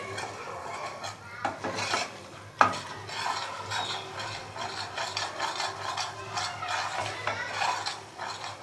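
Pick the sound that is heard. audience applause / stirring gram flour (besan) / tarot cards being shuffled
stirring gram flour (besan)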